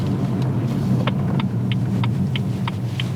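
A BMW M140i drives along a 30 mph road, its engine and tyres making a steady, continuous low rumble from inside the cabin while a rhythmic series of faint ticks, like an indicator, repeats over it.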